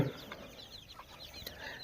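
Faint high cheeping of several small native chicken chicks, about ten to twenty-three days old, repeated peeps scattered over a quiet background.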